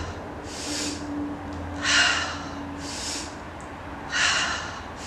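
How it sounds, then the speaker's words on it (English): During an aerial fitness conditioning exercise, standing on the balls of the feet, someone breathes in short, sharp bursts, close and steady. Four forceful breaths sound in a regular rhythm over a faint constant hum. "exhale down."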